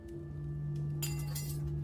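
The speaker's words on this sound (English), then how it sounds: "Sound of glass crackling underneath my feet." Glass crunches underfoot in a visual novel game, a short crisp burst of clinking and crackling over a steady low background hum.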